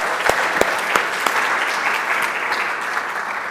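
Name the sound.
audience applause for workshop speakers and panelists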